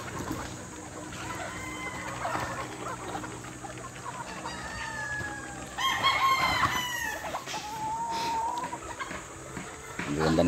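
Kelso gamefowl roosters, red and white birds, crow repeatedly with rising and falling calls over steady clucking and farmyard background, louder crowing near the middle and end.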